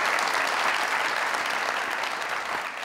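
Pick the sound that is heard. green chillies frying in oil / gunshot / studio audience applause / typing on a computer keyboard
studio audience applause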